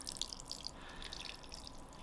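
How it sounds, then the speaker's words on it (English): Water poured onto moss on one side of an isopod enclosure for Cubaris panda king isopods, a soft steady trickle and patter of dripping, faint and continuous, with no voices. "So you want to pour water on this left-hand mossy side."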